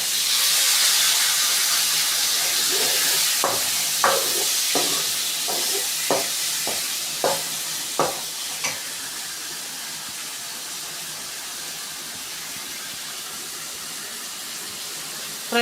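Onions with tomatoes dropped in fry in a pan with a broad, steamy hiss that starts strong and slowly fades, while a run of light taps and scrapes from stirring sounds close by.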